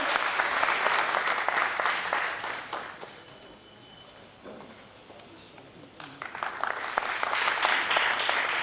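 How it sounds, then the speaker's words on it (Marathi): An audience at a Maharashtra government cultural programme gives loud applause, which dips partway through and then swells again into dense clapping. "एकदा जोरदार टाळ्यांचा कडकडाट त्यांच्यासाठी होऊन जाऊ दे"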